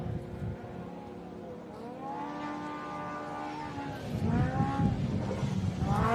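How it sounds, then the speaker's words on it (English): A trophy truck at an off-road race revs with a rising, harmonic exhaust note, building and swelling louder toward the end as it passes at moderate distance. "Man, that thing sounds cranky. Just got a completely different exhaust note."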